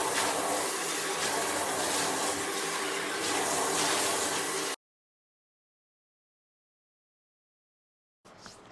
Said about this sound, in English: I am taking a bowl and filling it up with water and just pouring it over the sides of the tub to rinse any soap residue down the drain